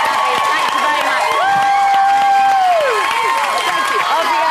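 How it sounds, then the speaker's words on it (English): A studio audience gives a departing reality-show housemate loud, sustained applause and cheering for the whole stretch, with voices shouting over the clapping. "Let's give her a huge round of applause."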